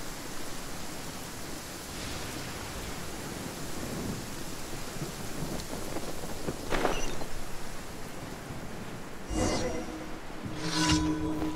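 A steady rain hiss from a thunderstorm in the video game Genshin Impact, with a few sharp crackling thunder hits toward the end.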